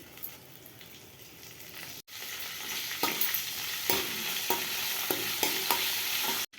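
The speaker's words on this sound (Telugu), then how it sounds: "ఆయిల్ వేడైన తర్వాత పోపు దినుసులు వేసుకోవాలండి" Tempering spices sizzle and crackle in hot oil: cashews, mustard seeds, cumin, dried red chillies, garlic and curry leaves. A steady frying hiss carries sharp pops and stirring clicks throughout, with a brief break partway, and no talking.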